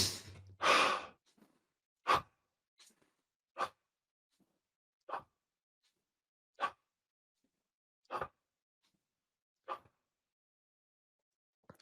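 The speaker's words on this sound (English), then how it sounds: "get ready for another 10 breaths" Slow deep breaths during a guided breathing exercise: one long loud breath opens, then seven evenly spaced, brief breaths follow about every one and a half seconds with quiet gaps between.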